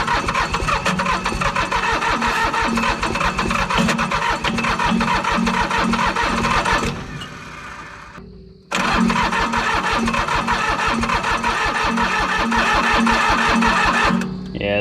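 An old commercial diesel mower engine, left sitting in a field for twenty years and dosed with starting fluid, cranks and roars loudly. It cuts out briefly around the middle, then picks up again at full, harsh intensity.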